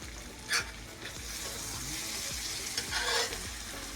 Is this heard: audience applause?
no